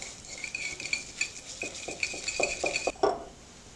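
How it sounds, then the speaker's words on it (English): Quick rhythmic whisking of a potato latke mixture with garlic, salt and pepper, a metal whisk clinking against a bowl in close, bright taps that speed up before a final sharp knock. "Then whisk together, mixing well."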